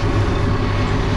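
Slide mower cutting overgrown grass on an abandoned field, snagging debris in its blades: a steady, loud mechanical drone with a low hum throughout, close by and without any talk.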